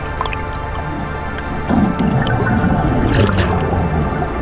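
Air bubbles from a scuba diver rise and gurgle underwater at about 65 feet off Palm Beach, a steady bubbling wash that swells louder partway through, with no talking.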